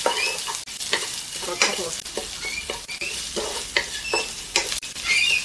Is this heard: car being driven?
no